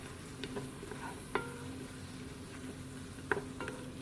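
Garlic fries in a little oil and butter under a soft steady sizzle, while a few sharp spoon or spatula clicks against the pan mark the stirring, close up and quiet, without any talking.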